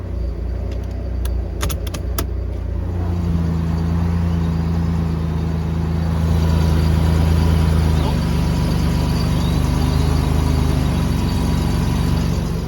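A Toyota 4Runner, third generation, starts up after a transmission swap: a few sharp clicks of cranking, then the engine settles into a steady, close idle rumble that continues evenly.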